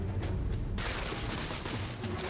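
Rapid gunfire in The Order: 1886, a dense burst of shots crackling continuously at moderate distance over a busy background.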